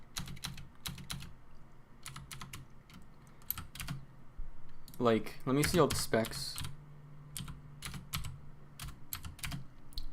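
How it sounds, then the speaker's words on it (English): Computer keyboard typing in quick irregular bursts of clicks across the whole stretch, near and moderately loud, with a person talking briefly in the middle. "I'm typing with one hand too"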